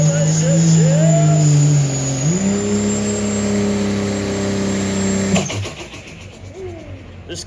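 A diesel truck engine roars loudly at an open diesel truck pull in Sheldon, Wisconsin, holding a steady heavy drone that climbs in pitch partway through before cutting off abruptly, leaving crowd noise and an announcer's voice.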